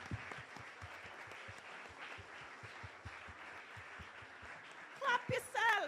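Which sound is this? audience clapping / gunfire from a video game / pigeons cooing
audience clapping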